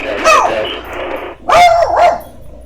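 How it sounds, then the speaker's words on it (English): A dog barks from the back seat of a small aircraft cockpit: a sharp bark, then after a pause two more quick barks with whiny tones, fairly close and loud over a steady cabin hum. "I got a dog in the back seat there"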